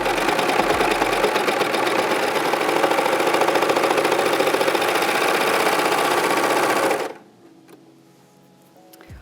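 A serger sewing machine runs fast and loud, stitching rib knit to jersey knit fabric in a dense, steady mechanical whir that stops abruptly near the end, leaving quiet handling noise.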